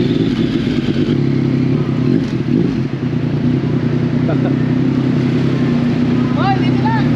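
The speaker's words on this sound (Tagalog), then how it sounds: "First time namin sasampa yung mga motor namin dito sa barko." Motorcycle engines idle and rumble steadily as the bikes board a ship, in a noisy, echoing space, with clatter and voices talking throughout.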